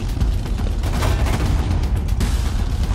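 Enemy gunfire in the video game Homefront: The Revolution: loud, continuous volleys of shots mixed with booming impacts, close and relentless for the whole stretch.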